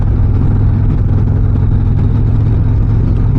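A 2025 Harley-Davidson Street Glide Ultra touring motorcycle rumbles loudly and close with a deep, steady engine throb as it pulls away, with no voices over it.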